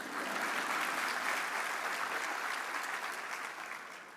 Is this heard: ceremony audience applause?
yes